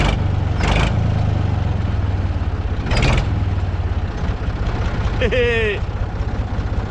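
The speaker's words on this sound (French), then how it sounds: "Oh bien ce tracteur" A tractor at an alpine pasture idles close by with a steady low rumbling throb, joined by a few short clunks and a brief high squeal; a voice chimes in over it.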